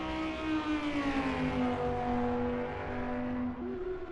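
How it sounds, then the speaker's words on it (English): Lamborghini GT3 race car in a racing simulator at Bathurst, its exhaust note a sustained, fairly faint high-pitched wail that sweeps down through a gearshift and rises again, with no talk over it. "I love that sound, boy. That exhaust note."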